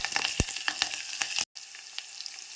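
Curry leaves and green chillies hit hot oil for uppittu, crackling and sizzling close up with sharp pops, a brief silent gap, then steady frying resumes.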